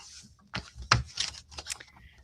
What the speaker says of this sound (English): Shuffle Tarot.